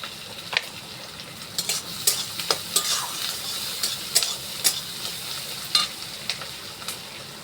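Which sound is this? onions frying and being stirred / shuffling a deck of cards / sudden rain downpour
onions frying and being stirred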